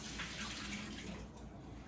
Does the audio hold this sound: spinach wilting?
no